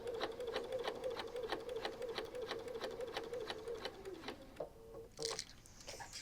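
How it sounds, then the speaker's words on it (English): A sewing machine bastes fabric panels onto a lining with a long 6 mm stitch at a scant quarter-inch seam, making a quick, even mechanical patter close up. It then slows and stops, followed by a few faint handling noises. "We'll use our scant 1/4 inch and baste these panels onto the lining."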